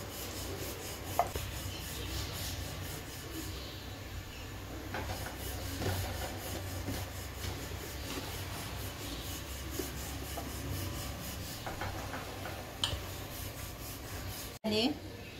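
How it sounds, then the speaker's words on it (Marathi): Tilgul poli flatbread dough being rolled out with a rolling pin, a soft, continuous rubbing and scraping with occasional light knocks, fairly close and faint, under quiet background hum. "एकाच ठिकाणी जोर द्यायचा नाही लाटताना, चारी बाजूने अशी पोळी लाटत राहायची।"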